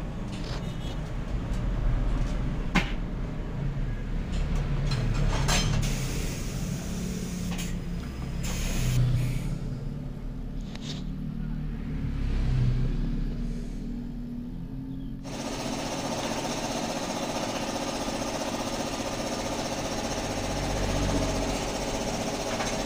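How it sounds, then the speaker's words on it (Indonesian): A tire changer machine mounts a new racing-tread tire onto an ENKAI R15 rim for a red Honda Brio, giving a continuous mechanical whir and grinding with rumbling surges, then a steadier hum toward the end. "kita ke mesin lagi, kita lihat pemasangan ban di velgnya"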